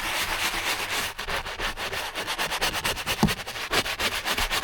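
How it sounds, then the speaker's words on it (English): Stiff brush scrubbing a mud-stained rubber floor liner, a steady rhythmic scratchy rasp of quick back-and-forth strokes, close and continuous with no talk. "I'm gonna use the same brush. Just gonna agitate it."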